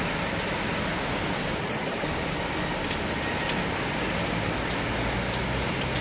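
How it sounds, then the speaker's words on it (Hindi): Steady, dense heavy morning rainfall in Bahrain hisses without pause, a broad wash of noise with fine patter throughout and no voices. "ज़बरदस्त बारिश है।"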